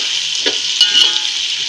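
Onions sizzle steadily in hot oil with garam masala and coriander-cumin powder for chicken biryani, broken by a couple of short spoon scrapes as the pan is stirred.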